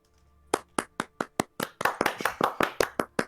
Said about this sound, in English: As you guys start clapping,